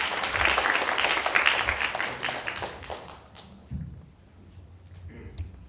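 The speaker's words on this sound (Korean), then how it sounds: "좋은 강연 해주신 이찬우 강사에게 다시 한번 큰 박수 부탁드리겠습니다" A lecture audience applauds for a while after a talk on the Fourth Industrial Revolution and financial security. The clapping is dense and steady at first, then thins and fades into scattered claps and room noise.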